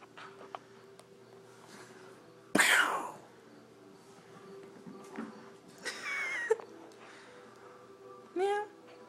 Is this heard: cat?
yes